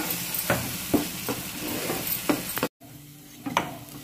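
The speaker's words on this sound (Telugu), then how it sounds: "ఇదంతా పచ్చివాసన పోయే వరకు ఫ్రై చేసుకోవాలి." Fenugreek leaf paste frying in a pan for methi rice: a steady sizzle broken by repeated spatula strokes and scrapes, close and fairly loud, with a brief silent gap midway.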